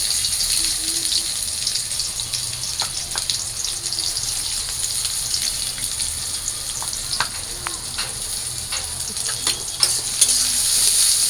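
Onion and garlic sizzle in hot oil with leafy greens in a pan, a steady close frying hiss with scattered pops and crackles, without talk.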